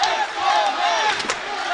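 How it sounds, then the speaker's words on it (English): College basketball crowd at a Skyline Conference semifinal, YU Macs against Farmingdale State, chanting in unison, a loud sustained mass of voices filling the arena for a couple of seconds. "Let's go Max chants erupting from the crowd."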